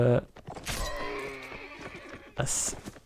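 A horse neighs sharply in a medieval combat video game match, with hoof clatter and battle clashes around it while a commentator speaks over the action.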